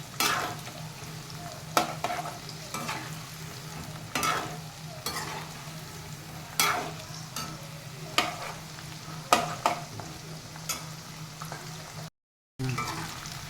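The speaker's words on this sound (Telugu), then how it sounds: "ఇప్పుడు ఈ వెల్లుల్లి వేసుకున్నాము. దీంట్లో బాగుంటాయండి వెల్లుల్లి. ఒక్క నిమిషం వేపిస్తాను." Garlic sizzles in oil in a pan while being fried for a Guntur drumstick pickle, a steady crackling hiss broken by regular scraping stirs, with a brief cut near the end.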